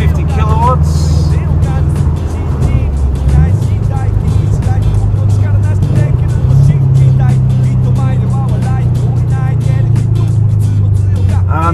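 A 2017 stroked Subaru WRX STi making about 500 wheel horsepower accelerates in Sport Sharp mode, its loud, steady engine drone climbing in pitch as it pulls.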